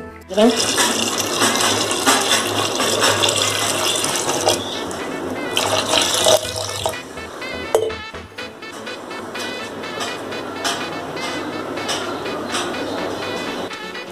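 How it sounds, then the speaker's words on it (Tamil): Water pours steadily into mutton soup in a pressure cooker, a loud continuous splashing fill that runs for several seconds before easing into a softer, ongoing trickle. "இப்போ நம்ம இதுக்கு தேவையான அளவு தண்ணி ஊற்றிக்கலாம்"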